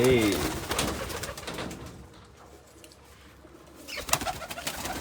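Pigeons coo and flutter inside a loft, with soft calls at the start and a few clatters and rustles later, while someone talks nearby.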